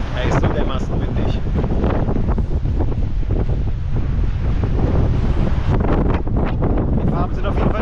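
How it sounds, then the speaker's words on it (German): Strong coastal wind buffets the microphone in a loud, continuous roar with constant rumbling gusts and no letup. "Er ist so dermaßen windig."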